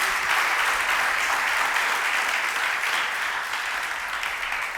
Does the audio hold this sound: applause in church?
yes